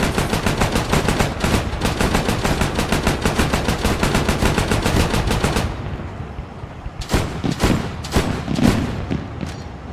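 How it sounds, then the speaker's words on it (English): Rapid automatic gunfire in the video game Arma 3, loud dense bursts for several seconds, then a pause and a few scattered single shots. "Why are we shooting trees?"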